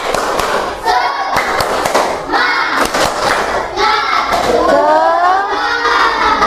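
A primary school class claps out a rhythmic spirit clap together, sharp group claps in patterns alternating with children chanting loudly in unison, all close in a classroom.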